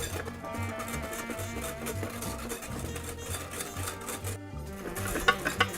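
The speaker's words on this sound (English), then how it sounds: "I'm going to take a whisk and I'm just going to keep mixing it up until it gets really cold." A whisk beats a cooling ice cream base in a bowl set over an ice bath, a quick, continuous rhythmic scraping and clicking close by with no talking.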